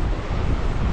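Surf rolls in at Kuala Matu beach, a steady close wash of waves blended with heavy wind buffeting the microphone, no voices.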